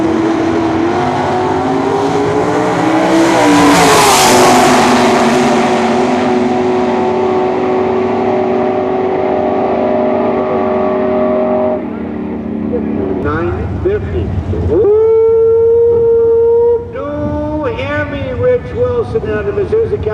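A 1964 Chevy Nova drag race car roars down the strip at a drag meet, its loud sustained engine howl climbing in pitch. Later shifts and other engines follow, and an announcer talks over the sound throughout.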